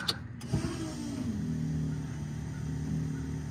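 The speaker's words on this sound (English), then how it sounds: "ooh, that pump sounds pissed." Electric fuel pump priming in a turbocharged LS-swapped Mustang, a faint steady whine that rises after a brief click and holds for a few seconds in a quiet car.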